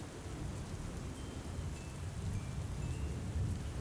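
Rain and thunder sound effect for a retelling of Noah's flood, steady heavy rainfall with low rumbling thunder throughout, no voices.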